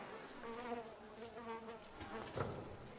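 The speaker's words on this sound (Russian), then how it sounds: "А затем появляются мошкара, личинки и мухи." Flies buzzing as a film sound effect, a continuous droning hum with wavering pitch from several insects, steady and moderately close, with no speech over it.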